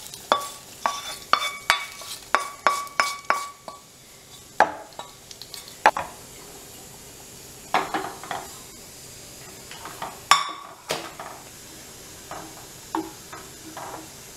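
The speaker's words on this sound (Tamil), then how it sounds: "இப்போ நம்ம வதக்கினதை இந்த மோர் குழம்புல போட்டுடலாம்." A metal spoon stirs fried okra into a pot of buttermilk curry, giving a rhythmic run of close, crisp clanks against the pot that slows into scattered knocks, with no talking.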